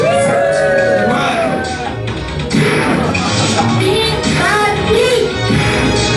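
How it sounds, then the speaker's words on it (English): A live comedy audience cheers, whoops and shouts loudly and steadily for Superman, a dense wall of voices throughout. "Everyone cheer for Superman!"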